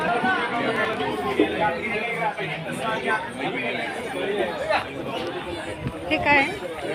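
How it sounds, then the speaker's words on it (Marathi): A dense crowd of pilgrims at the temple in Adamapur chatters continuously, many overlapping nearby voices forming a steady hubbub with occasional louder calls. "आणि इथं गर्दी बघा केवढी आहे"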